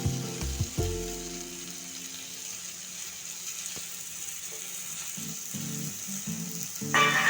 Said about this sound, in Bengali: মশলাটা কষা হয়ে গেছে, আমি এবার মাংসগুলো এতে দিয়ে দেবো